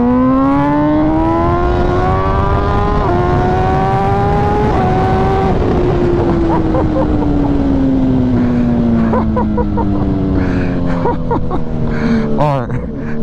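An MV Agusta Brutale 1000 RR motorcycle engine revs steadily with a rising then falling pitch, loud and close, with pops and crackles near the end.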